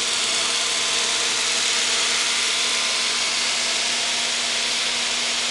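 A DC motor driving a fixed-field generator at rated speed, a continuous loud mechanical hum and whine with steady tonal drone, unchanging throughout, close with no talking.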